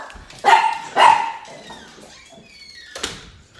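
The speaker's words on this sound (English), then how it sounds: "Dogs." Two loud, close dog barks in quick succession, followed by a fainter third bark a couple of seconds later, with a quiet indoor room between them.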